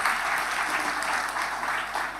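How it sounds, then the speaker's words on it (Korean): A Sunday worship congregation claps together in steady, dense applause that fills the whole short moment without a break. "박수 한번 해주시다"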